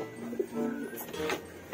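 Racing pigeons from a breeding loft coo softly in a few low, throaty bursts, faint and close by, with no talk over them.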